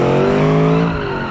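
In the video game BeamNG, a small muscle car's loud engine roars at high revs while tires squeal and spin in second gear, a continuous harmonic whine close up with no gaps.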